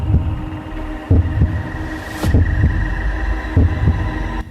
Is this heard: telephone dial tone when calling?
no